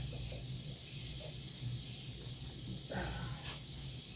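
A 32-ounce carton of beef broth poured into a soup pot makes a steady, soft hissing stream of liquid, faint and continuous throughout, with no talking.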